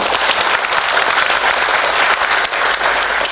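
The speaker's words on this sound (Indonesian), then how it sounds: "Tepuk tangan untuk BPD." A crowd at a corporate event in Bali applauds steadily with dense, sustained clapping that stays loud from start to finish.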